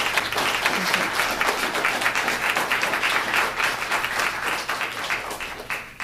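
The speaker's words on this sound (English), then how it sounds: "give you an opportunity for a round of applause to Cheryl for coming out." Steady applause from a crowd at a school district town hall, dense clapping that holds at an even level for several seconds before easing slightly.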